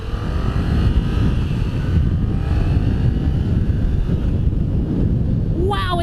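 A 2018 Yamaha MT-07 with a 700 parallel-twin engine pulls hard under acceleration, its steady roar heavily buffeted by wind rush from the rider's microphone for several seconds.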